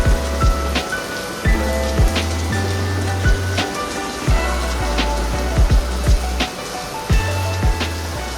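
Steady rain falls in Goa, a dense continuous hiss with scattered sharper drop impacts and short low thumps throughout, loud and close with no talking.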